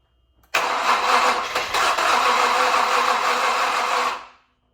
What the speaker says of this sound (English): see if it'll crank over